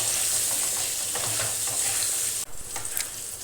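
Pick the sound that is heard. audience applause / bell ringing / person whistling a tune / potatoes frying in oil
potatoes frying in oil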